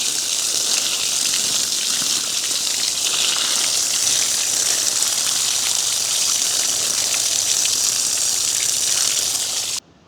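Palmyra fruits are washed under running water in a village setting: a loud, close, steady gushing splash that continues for about ten seconds, then stops abruptly.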